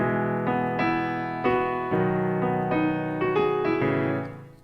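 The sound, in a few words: piano playing a song with swung eighth notes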